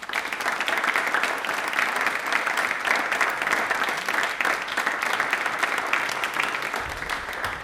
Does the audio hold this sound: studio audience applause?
yes